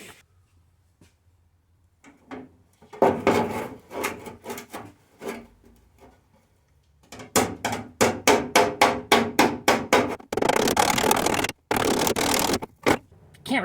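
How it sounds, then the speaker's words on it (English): Hammer and dolly work a dent out of a Studebaker Hawk car door's sheet metal: bursts of sharp metallic taps in quick rhythmic runs, close and fairly loud, with brief scraping noises and quiet gaps between. "When you hear that sound, you know that you've got the dolly exactly on the spot you want to push up."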